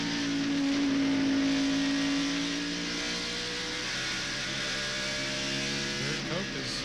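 NASCAR Winston Cup stock cars racing at Bristol in the 1995 Goody's 500: a steady, droning roar of multiple engines at distance, with a sustained engine whine early and a car sweeping past near the end.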